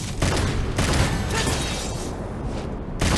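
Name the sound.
gunshots in the video game Devil May Cry 5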